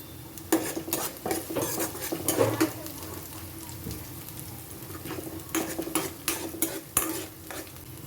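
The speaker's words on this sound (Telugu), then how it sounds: "కొన్ని ఆవాలు కొంచెం జీలకర్ర వేసి బాగా కలపండి" Mustard seeds and cumin frying in a pan with a metal spoon stirring them, scraping and clinking in uneven bursts over a steady background crackle, close and fairly loud, with no talk.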